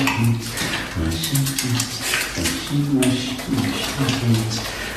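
Water from a tap runs steadily during handwashing with soap, a continuous hiss under a person talking over it throughout.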